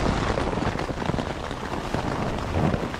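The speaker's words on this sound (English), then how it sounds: "as soon as I set my tent up, the rain hit." Rain pattering steadily on a tent on the trail from South Lake to Bishop Pass, a dense even hiss of drops close by with no voices.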